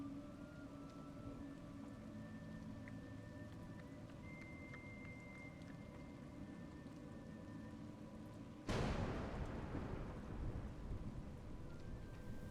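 Steady rain patters throughout in the video game A Juggler's Tale, then a sudden loud crack of thunder breaks in and rolls on as the rain continues.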